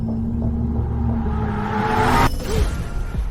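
A car is heard while climbing a mountain road: a steady engine rumble with a rising tone that builds, then breaks off into a swoosh of motion. Heard close, with no one talking.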